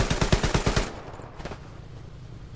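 Machine gun fire in the video game Hell Let Loose, a rapid loud burst of about eight shots in the first second, then a quieter tail with a distant crack.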